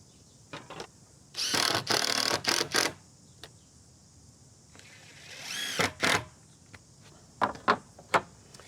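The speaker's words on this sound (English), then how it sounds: "what I've decided to do is just to drive those screws a couple of millimetres under the surface of the timber" A drill drives screws into timber for a wooden gate, with several short, loud whirring bursts separated by pauses and clicks, close by and without speech.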